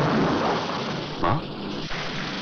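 Steady, dense rain pours down outdoors, a continuous hiss filling the scene, with a brief dull rumble partway through and no speech.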